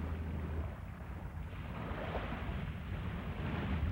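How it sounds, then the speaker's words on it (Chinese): Ocean waves at the seashore wash in a faint, continuous rush, mixed with low wind buffeting and no voices. "我带你们来看海看浪花"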